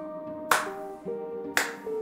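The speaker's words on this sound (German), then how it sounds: "Ich konnte nicht anders und fing an langsam zu klatschen." Two slow, sharp hand claps land about a second apart, crisp and close, over a faint sustained musical tone.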